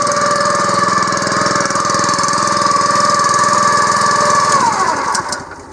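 A Honda small engine runs steadily and loud at close range, holding a constant drone with harmonic whine before it cuts off and winds down near the end.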